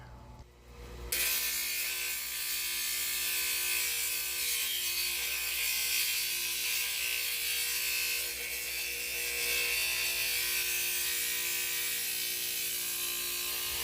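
Rock being ground near its edge with a power grinder, a steady, loud, harsh mechanical whine and rasp that runs continuously after a brief quieter start, with no talking.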